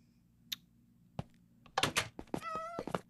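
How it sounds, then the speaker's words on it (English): A cat meows briefly in a video game, a short harmonic cry near the end of the clip, surrounded by dull thunks and game noises. "Why is there a cat?"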